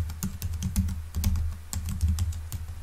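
Steady typing on a computer keyboard while programming in Processing, a dense run of close, bright key clicks with an uneven rhythm, heard alone with no talking.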